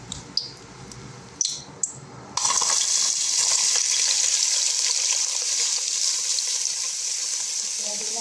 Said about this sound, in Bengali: এর মধ্যে আমি পেঁয়াজগুলো দিয়ে দেবো।